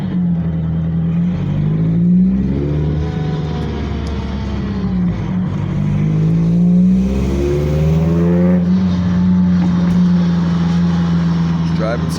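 Car driving in circles in Detroit with its engine revving: a steady loud drone that rises and falls in repeated sweeping revs over about twelve seconds, close up and continuous.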